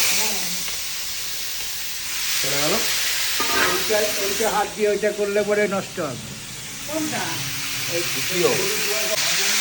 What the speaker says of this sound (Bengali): সাত সাত তেলে ভাজা হচ্ছে সাত সাত তেলে মাছগুলো এবার তুলে নেওয়া হচ্ছে